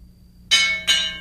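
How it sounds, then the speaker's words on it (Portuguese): A church bell in Canudos, in the Brazilian backlands, strikes twice in quick succession, each stroke bright and loud with a shimmering decay, following near silence. "o sino da igreja, tocado por Timotinho, anunciava a vitória"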